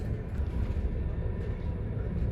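Passenger train on the Bergen Line rushing at high speed, a low, continuous rumble and rattle heard from inside the carriage, steady and without voices.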